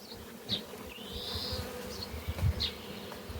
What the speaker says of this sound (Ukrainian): Дивіться, бджілки вже йдуть з пилочком.